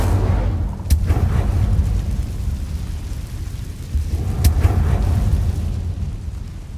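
Two sharp fiery blasts a few seconds apart from the Incendio fire spell in Hogwarts Legacy, each a quick crackling burst over a constant low rumble of game background sound.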